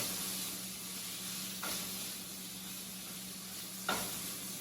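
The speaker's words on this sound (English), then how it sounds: "keep cooking your bacon until it's no longer this bright pink color here" Bacon pieces sizzle steadily in a frying pan, a constant close hiss broken by two brief louder spits or scrapes.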